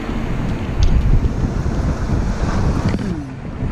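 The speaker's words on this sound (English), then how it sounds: "There are waves coming." Ocean waves wash and surge near a rusty shipwreck off Limassol while strong gusts batter the microphone with constant rumbling noise.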